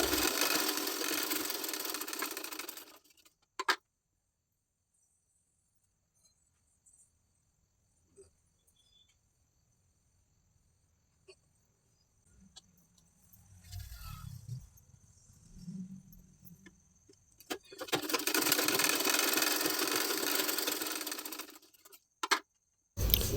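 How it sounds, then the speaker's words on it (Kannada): A sewing machine stitching back tucks on a blouse, running in two bursts of steady whirring separated by a long near-silent pause with faint handling. "ಈಗ ಬ್ಯಾಕ್ ಟಕ್ಸ್ಗಳನ್ನ ಸ್ಟಿಚ್ ಮಾಡ್ಕೊಳ್ಳೋಣ"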